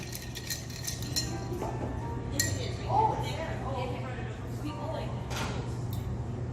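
A cocktail is gently stirred with ice in a glass at a resort bar in Los Cabos: light clinks and taps of ice against glass, with voices in the background.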